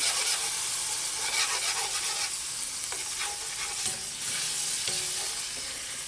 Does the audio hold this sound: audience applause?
no